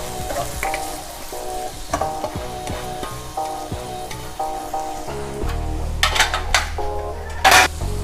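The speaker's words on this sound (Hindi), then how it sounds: "आधी प्याली मैंने बंद गोभी की ली है, उसको भी डाल दूंगी और उसको भी इसके साथ फ्राई कर लूँगी।" Shredded cabbage and mixed vegetables sizzle and fry in a hot pan for a Chicken Manchurian stir-fry, with steady crackling, stirring scrapes and a louder burst of sizzle partway through.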